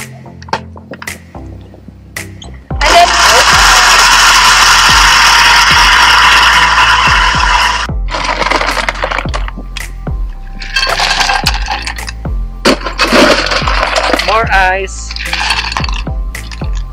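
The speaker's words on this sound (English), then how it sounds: "And then we blend again" A blender roars loudly for several seconds as it blends a welcome drink with water, stops, then runs again in shorter bursts, with some speech and clattering between.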